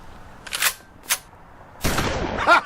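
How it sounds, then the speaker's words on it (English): A gun loading and firing sound effect played as a phone ringtone gives a couple of short mechanical clicks, then a sharp burst with a ringing tail, close and loud. "I got this one of a gun loading and firing."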